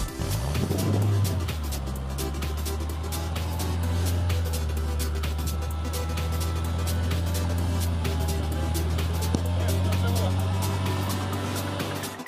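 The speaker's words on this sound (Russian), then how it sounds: "Двигатель работает стабильно. Проверяем выхлоп автомобиля." A Renault Logan engine (2005–2014) idles steadily, a low, even rumble with exhaust hum that holds constant throughout, with faint ticking overhead and a voice talking under it.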